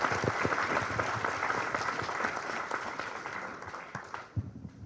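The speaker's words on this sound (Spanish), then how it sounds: "Pues le damos con un aplauso la más cordial bienvenida." Audience applause welcoming a guest speaker at a book presentation on democracy and elections, a steady dense wash of clapping from a large room that holds for several seconds and then thins out toward the end.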